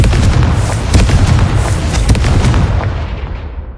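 A Confringo fire spell explodes in Hogwarts Legacy with a loud, sustained rumbling blast of booming bursts that fades out at the end.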